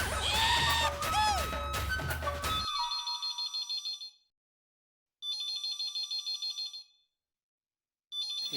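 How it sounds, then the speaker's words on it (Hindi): A telephone rings in bursts of rapid electronic trills, repeating with pauses between rings, after a brief opening of loud mixed sounds and chatter. "एक फोन बंद हुआ नहीं और दूसरा शुरू हो गया।"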